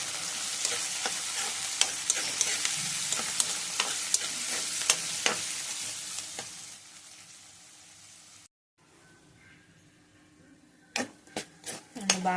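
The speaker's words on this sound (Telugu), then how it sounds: "ఉల్లిపాయ బాగా వేగింది." Chopped onion frying and stirred in a home kitchen pan, a steady bright sizzle with scrape and stir clicks for about eight seconds, then a brief quiet pause before a few sharp utensil knocks.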